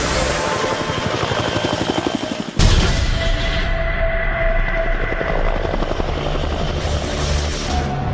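A Cobra attack helicopter roars past with a rapid rotor chop, loud and close, then a sudden burst into a dense continuous roar like firing, sustained to the end.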